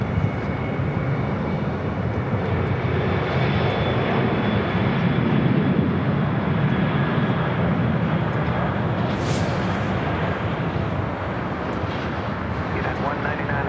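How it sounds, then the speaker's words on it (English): A heavy jet airliner takes off on the south side of LAX, its engines sending a sustained, broad roar that holds steady for over thirteen seconds. The sound comes from a distance, with faint voices heard at times underneath. "We got a Heavy taking off on the south side."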